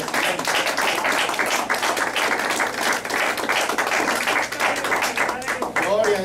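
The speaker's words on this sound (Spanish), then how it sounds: "Denle un aplauso al Señor, por favor." A church congregation applauds steadily throughout, a dense wash of clapping with a Spanish-speaking voice over it.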